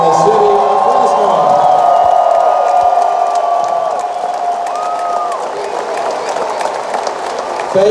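A big crowd at a Fresno State ceremony honoring basketball player Paul George breaks into loud, sustained applause and cheering, with whoops and shouts riding over the roar while an announcer's amplified voice carries through it.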